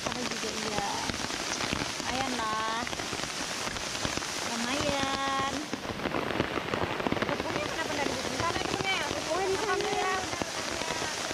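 Steady, loud rain falls beside the swelling waterfall at Batu Berambai, a dense constant hiss throughout, while people talk over it.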